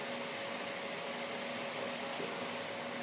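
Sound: Cooler Master Jetflow 3 computer case fan running

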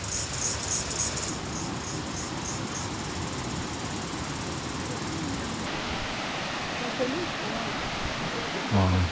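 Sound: waterfall

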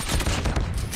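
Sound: nail gun firing in a zombies video game

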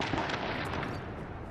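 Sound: explosion in the video game The Division

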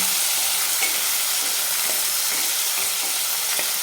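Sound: cowpea and potato dry bhaji cooking in a pan

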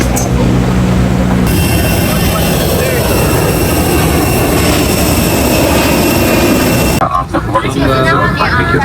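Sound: jet airplane at Guangzhou airport

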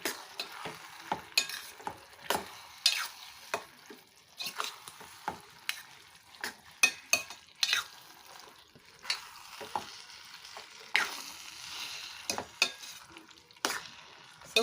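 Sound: stirring prawns frying in a pan

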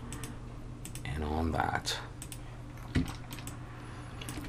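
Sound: computer mouse and keyboard clicking while selecting objects

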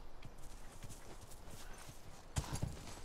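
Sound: horse hooves clip-clopping, The Last of Us Remastered video game

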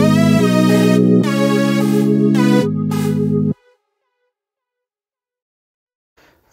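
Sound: lead synth from Purity plugin playing a pattern

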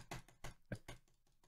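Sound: loud computer mouse clicks

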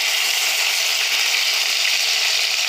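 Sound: chicken breast pieces frying in a pan

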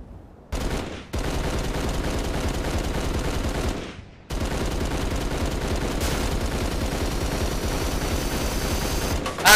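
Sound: gunfire with bullets flying past

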